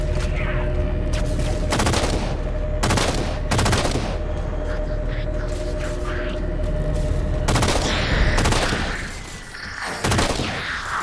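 Loud gunfire from the first-person shooter Halo 4, with bursts of automatic fire and booming shots repeating across a dense battle soundscape, carrying on steadily with no voices.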